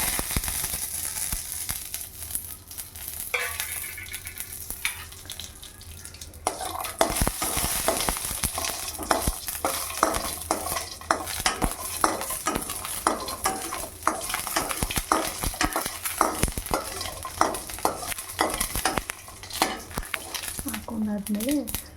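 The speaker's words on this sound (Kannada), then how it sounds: "ಆಯಿಲ್ ಮಾಡಿದ ತಕ್ಷಣ ನಾವು ಕಡಲೆ ಬೀಜನ ಇಟ್ಕೊಂಡಿದ್ವಲ್ಲ ಪೂರ್ತಿ ಹಾಕ್ಕೊತೀವಿ." Peanuts frying in hot oil in a home kitchen pan, a loud continuous sizzle with repeated scraping and clinking of a spatula stirring them, ongoing for over twenty seconds.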